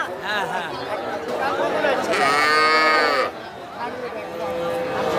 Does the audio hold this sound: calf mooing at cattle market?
yes